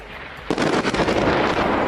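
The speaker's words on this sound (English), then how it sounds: "this Al Jazeera reporter was rocked by a thunderous explosion behind him." A thunderous explosion erupts behind a reporter in a conflict zone in Syria, a sudden loud blast that rolls into sustained rumbling and crackling debris for over a second after a quiet moment.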